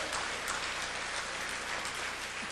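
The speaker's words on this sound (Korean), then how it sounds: "박수 한번 쳐보세요" Audience in a church sanctuary applauds, an even, continuous wash of clapping from a large crowd heard at some distance, with no clear voices over it.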